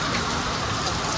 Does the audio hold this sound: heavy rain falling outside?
yes